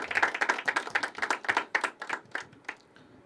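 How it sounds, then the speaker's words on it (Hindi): A small audience at a poetry open mic claps by hand. The separate claps come in a quick, uneven patter, loud at first, then fade to a few sparse final claps after about three seconds. "जिंके के लिए जोरदार तालियां।"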